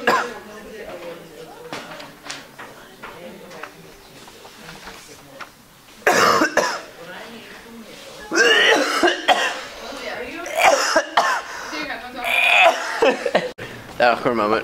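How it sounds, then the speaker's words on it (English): A high school student in class coughs again and again in uneven bursts, with some throat clearing and faint laughter around the coughs. "That awkward moment when you can't stop coughing during class."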